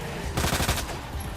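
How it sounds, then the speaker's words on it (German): A short, rapid burst from an LE5 submachine gun in the Resident Evil 2 video game, a quick rattling string of shots lasting under half a second over a steady background hum. "Er hat ein LE5 Maschinengewehr, 380er ACP-MP mit 32 Schuss"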